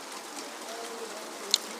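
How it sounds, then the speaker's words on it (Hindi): Rain falling outdoors, a steady soft hiss of drops with one brief sharper tap near the end, moderately loud and continuous with no voice over it. "यहाँ पे बारिश हो रहा है, इसी के कारण जो है इस तरह का आवाज़ आ रहा है।"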